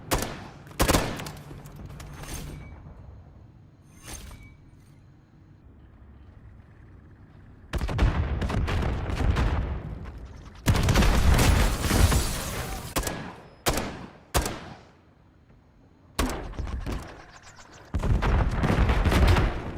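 Repeated gunfire in Modern Warfare III, aimed at spawn tubes on the Highrise map, with loud sharp shots and explosive bursts in clustered volleys broken by quieter gaps, close and heavy.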